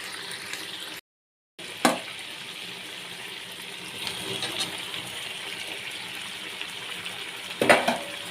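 Potatoes and pumpkin added to half-cooked broiler chicken frying in oil, a soft steady sizzle with occasional sharp clatters of stirring and a brief silent gap.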